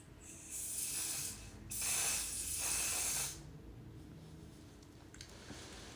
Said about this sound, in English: put setting spray, which is the O/S setting spray